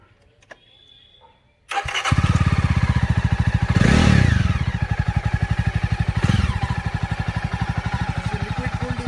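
A 2020 Jawa Classic BS6 liquid-cooled motorcycle engine cranks after a quiet moment, catches loudly, revs briefly twice, then settles into a steady close thumping idle.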